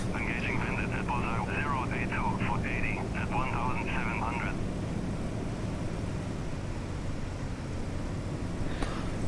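The Fw 190 A-8 fighter's engine in the DCS flight simulator is a constant, loud broadband drone, with someone talking over it for the first half.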